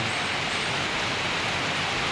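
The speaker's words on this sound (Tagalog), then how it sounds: "lakas ng ulan" Heavy rain falls on a road trip through the Philippines, a dense, constant hiss of downpour with no breaks, loud and close, no talking.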